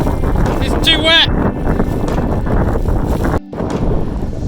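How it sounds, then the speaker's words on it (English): Strong wind in Iceland buffets the microphone with loud, rumbling gusts throughout, and a voice is briefly heard through the roar. "This is when it's windy as hell"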